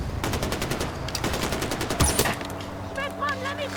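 Rapid automatic gunfire from a heavy machine gun in the video game Far Cry 4 rattles in a fast, even burst of loud shots, followed by a sharp impact and fainter battle noise.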